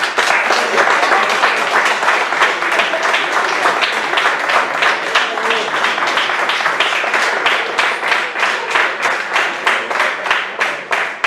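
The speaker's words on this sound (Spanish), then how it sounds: "los que han competido se merecen un aplauso" Applause for fencing competitors at a talk on sport fencing, a loud, dense crowd clapping that keeps going and takes on a rhythmic pulse near the end.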